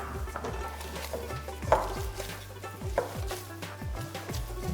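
Fresh mint leaves being stirred into a spiced aloo tikki potato mixture, with soft scraping and clinks of a utensil against the bowl over a steady low hum, a couple of sharper knocks standing out.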